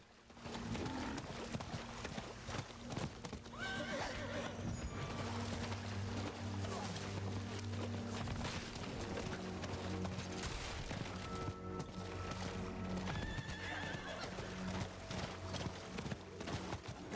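Horse hooves clip-clop steadily beneath a dense, loud game soundtrack of music and combat effects in Diablo IV, with a brief whinny possible near the start; the clatter runs throughout the whole stretch.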